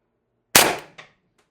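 A single sharp, loud crack from an Umarex TR50 HPA air rifle with a sniper barrel extension at 1100 PSI, firing an 8.4 gram steel ball bearing, followed by a faint impact tick and a short decay.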